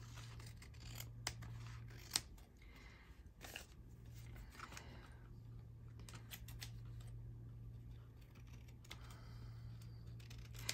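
Scissors trim paper at a crafting table, giving a series of quiet, close crisp snips and cuts spaced irregularly over a low steady background hum.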